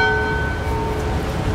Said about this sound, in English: We even got the bells ringing.